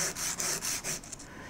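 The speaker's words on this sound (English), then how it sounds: "then I'm going to use a finer sanding stick" Fine sanding stick rubbed over metal in enameling work, a soft close rasping in several quick rhythmic strokes with short pauses between them, alone and fairly quiet.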